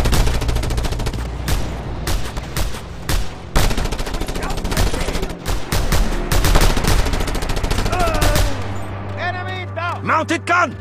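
A mounted gun fires in an open-world action game, loud rapid bursts of gunfire with short pauses between volleys. Engine drone hums underneath, and the firing gives way to whooshing sounds near the end.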